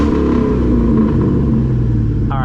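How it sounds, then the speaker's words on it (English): A New Edge SN95 Mustang GT with its 2V V8 revs hard, giving a loud, deep rumble that holds steady for a couple of seconds, close by and alone. "let's go ahead and give it some revs here"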